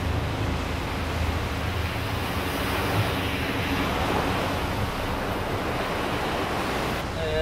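Rough open sea off Kapado island, known for strong tidal currents: a continuous heavy roar of churning waves and surf mixed with wind buffeting the microphone, loud and unbroken.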